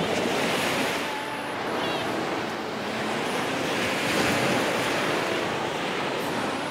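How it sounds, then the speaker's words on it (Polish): Sea waves break and wash continuously onto a Polish beach, a broad steady surf roar mixed with wind buffeting the microphone, with no talk. "I leci fala ziu!"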